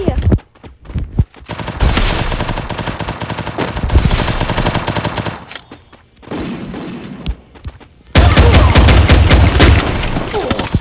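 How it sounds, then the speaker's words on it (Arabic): Rapid bursts of automatic gunfire from a shooting video game, with loud sustained volleys broken by short pauses and a fresh burst near the end, and no speech in the clip. "اطلق فوق اطلق عليه واطلق تحت"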